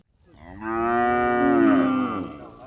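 A single long, loud, close moo from a cow in a herd kept by Fulani herdsmen, rising and holding steady for nearly two seconds before trailing off, heard alone with no speech.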